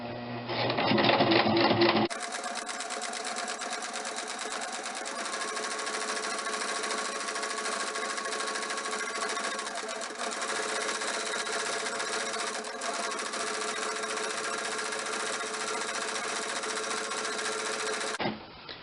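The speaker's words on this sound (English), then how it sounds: "Sew down the entire side just to make sure." Sewing machine running steadily for about sixteen seconds, stitching down the side of a nun's winged cornette, a close, continuous whirring drone after a brief start, with no talking.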